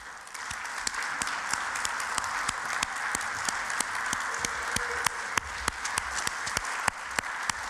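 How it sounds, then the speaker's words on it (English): A seated audience at a regional conference volunteer recognition gives a sustained round of applause, dense steady clapping with a few sharper individual claps standing out, loud and continuous throughout. "please rise so you can receive a well-deserved round of applause"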